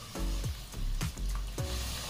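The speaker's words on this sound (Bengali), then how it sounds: "আলুগুলো ভাজা হয়ে গেছে" Potatoes sizzle in hot oil in a home kitchen while being fried for chicken biryani, a steady loud crackle broken by about four rhythmic scrapes and stirs of a utensil in the pan, with no talking.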